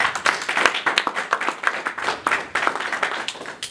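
A church congregation claps during a sermon. The claps are sharp and fairly close, in a rhythmic, uneven pattern, and no voice covers them.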